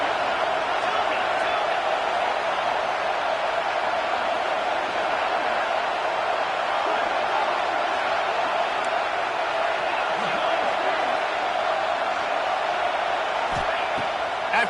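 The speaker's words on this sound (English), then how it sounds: "Man, this crowd really affecting the football now." Home crowd at an American football game roaring continuously, a dense, loud, unbroken wall of noise that holds steady with no pauses.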